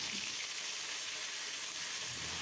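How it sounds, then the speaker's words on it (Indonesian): Ground spice paste sizzles steadily in a little hot oil for an Indonesian tempeh orek dish, a continuous close hiss with no talking. "Panaskan sedikit minyak saja, setelah panas masukkan bumbu halusnya."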